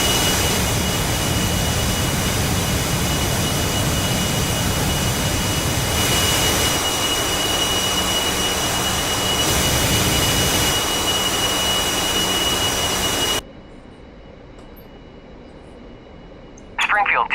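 East German MiG-29 jet engine in a flight simulation game, a loud continuous roar that holds steady for most of the stretch, then drops away abruptly into near quiet before briefly returning at the end.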